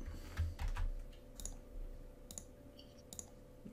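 A few faint, sharp clicks from a computer mouse come at irregular intervals over quiet room noise and a steady low hum.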